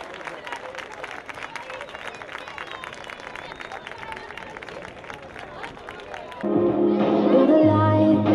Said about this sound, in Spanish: Y el aplauso del público de Alcázar de San Juan para nuestros